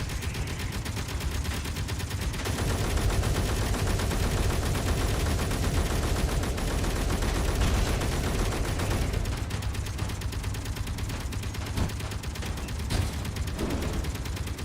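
Video game gunfire, a dense sustained rattle of rapid automatic shots in long unbroken bursts, steady and fairly loud, easing into scattered shots toward the end, with no voices.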